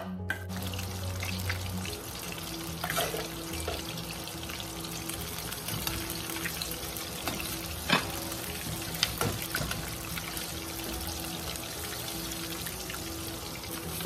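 Battered shrimp frying in hot oil for honey walnut shrimp, a soft continuous sizzle with a low hum and occasional clinks and scrapes, steady and fairly quiet throughout.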